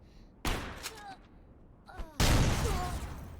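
Sniper gunfire in the shooter game Hounds: two sharp, loud blasts about two seconds apart, each trailing off in a long rumbling echo, with a faint voice between them.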